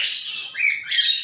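A pet pigeon gives thin, high, squeaky calls, two short close bursts separated by a brief softer dip, with no voices present.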